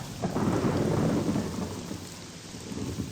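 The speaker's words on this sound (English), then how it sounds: "I keep thinking I'm going to be interrupted by a crack of thunder" Rolling thunder from a Morrowind storm rumbles loudly for about a second and a half, then fades back into a constant wash of rain on surfaces.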